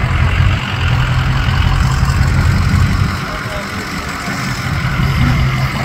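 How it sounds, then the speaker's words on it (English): A big V8 engine rumbles steadily at close range in a fairgrounds garage, a deep low throb that holds level with slight dips, with people talking over it. "Man, I love that big V8 sound too for that."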